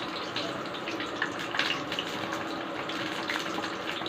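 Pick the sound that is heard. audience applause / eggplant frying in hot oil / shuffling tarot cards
eggplant frying in hot oil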